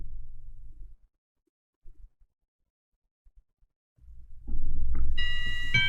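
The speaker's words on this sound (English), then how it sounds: "what's all the doorbell sounds?" A keyboard set to a doorbell voice rings out near the end as a short, bright chime after quiet gaps and faint rustles.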